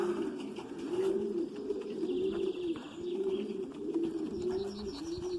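Racing pigeons, male birds kept together in a loft, coo in steady rolling repeated phrases, close and continuous, with no voices.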